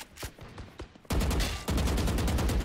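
A few sharp separate shots open a Valorant firefight, followed by a dense loud burst of continuous automatic gunfire that fills the rest of the moment.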